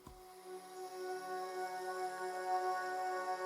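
Soft synthesized vocal pads from several software patches, layered and panned in a beat, swell in gently and hold as sustained, airy chords. They are quiet and alone.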